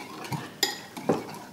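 A spoon stirs an egg and capsicum omelette mixture in a bowl, giving three quick scraping clinks of metal on the dish, close up and crisp, with no voices.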